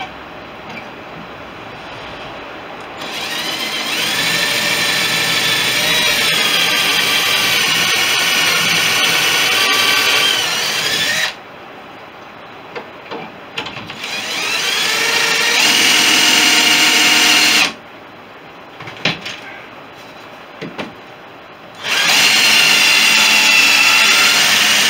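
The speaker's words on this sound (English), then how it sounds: "then I can drill straight through" Power drill boring straight through a part on a Fisher Youngster V aircraft build, three long loud whining runs with steady pitch, separated by brief quiet pauses, close by.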